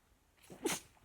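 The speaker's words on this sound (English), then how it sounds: "I'm gonna sneeze." A single quiet sneeze, a short breathy intake followed by a sharp burst, close by with no talking.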